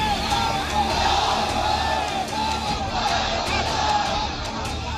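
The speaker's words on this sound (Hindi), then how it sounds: "सरेआम भड़काऊ नारे लगाए जा रहे हैं।" A large street protest crowd in Uttar Pradesh, gathered against Yati Narsinghanand, roars in a dense, continuous wall of shouting and chanted slogans, loud and unbroken throughout.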